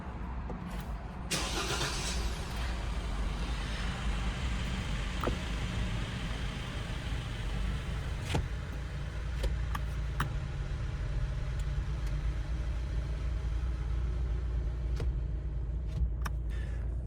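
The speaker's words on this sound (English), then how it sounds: "Let's start the vehicle." A 2025 GWM Tank 300 Ultra turbo diesel starts up from inside the cabin, then settles into a steady low idle hum with a few faint clicks over it.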